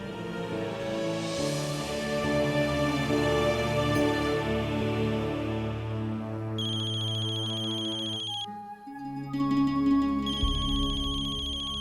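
A phone ringtone plays loudly and steadily for most of the time, a repeating melodic tone over layered music, with a short electronic ring pattern entering in bursts near the middle and end; no one speaks.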